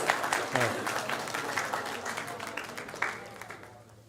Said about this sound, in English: Let's give them a nice and loud salawat ala Muhammad wa ali Muhammad and a round of applause both